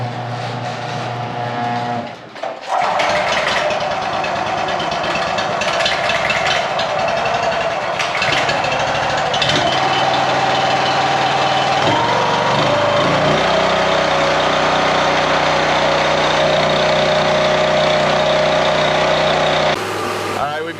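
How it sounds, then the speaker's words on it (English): A Wolfe Ridge Pro28C log splitter's small engine starts and runs steadily close by while its hydraulics warm up, a loud continuous buzzing drone with slight pitch shifts throughout. "We're gonna fire this thing up, make sure nothing's leaking, let the hydraulics warm up for a little bit"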